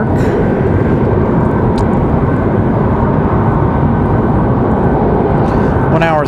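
A Breeze Airways Airbus A220-300 arriving at Raleigh-Durham from Albany produces a continuous loud jet rumble, with brief faint chirps near the end and no speech.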